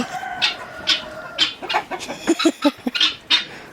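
Chickens cluck in short, scattered bursts at close range, with a few sharper squawks mixed in and no talking.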